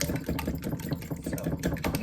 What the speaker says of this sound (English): start whipping my eggs together